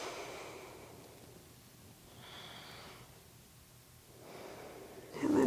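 Slow, deep breaths during a seated shoulder yoga stretch, soft airy inhales and exhales rising and falling in long waves, close and quiet, with a louder breath at the end.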